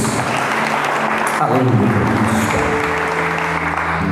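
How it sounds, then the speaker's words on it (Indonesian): Church congregation clapping steadily throughout, a dense wash of applause with voices calling out and a voice praising over it near the middle. "Kasih tepuk tangan untuk Tuhan Yesus."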